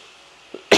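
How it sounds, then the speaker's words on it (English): A single short cough bursts out close and loud at the very end, after a faint throat sound and near silence indoors. "Notice I've been coughing a little bit lately."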